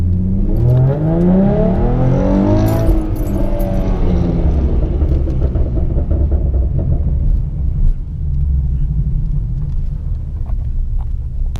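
Ford Mustang engine revving through a first-gear pull with the windows closed, heard from inside the cabin as a loud, rising drone that climbs for a few seconds, then settles into a steady low rumble.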